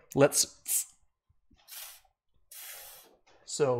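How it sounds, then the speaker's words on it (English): WD-40 silicone lubricant sprays into a cup in short hissing bursts, each a brief spritz with quiet gaps between, while someone talks over and around them. "I spray once in the cup with the WD-40 silicone lubricant."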